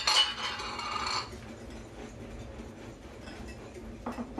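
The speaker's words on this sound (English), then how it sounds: "So I like to whisk my dries" Dry cake ingredients of flour, cocoa powder and baking soda whisked in a bowl, with a burst of quick metallic clinking for about a second, then faint scattered ticks and light scraping trailing off at close range.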